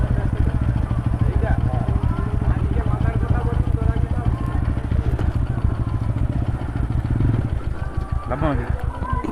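A motorcycle engine throbs steadily at a close, constant level during a ride, with riders talking over the engine noise throughout.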